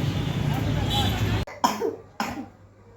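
Repeated coughing from an ill person at home, two or three sharp close bursts following a stretch of background noise and murmuring.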